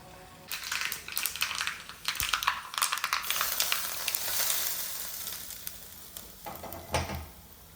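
Spices crackling and sizzling in hot oil, with irregular pops and bursts of spatter rising and falling, close up and without speech.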